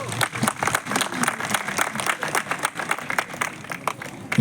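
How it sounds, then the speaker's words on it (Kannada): Audience applause fills a Kannada Rajyotsava celebration hall in Dubai, a dense, steady clapping from a large crowd that continues throughout with slight swells. "ಜೋರಾಗಿ ಚಪ್ಪಾಳೆ"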